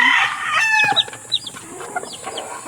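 Golden backyard chickens cluck close by, a string of short, uneven clucks and squawks at varied pitches, with no talking.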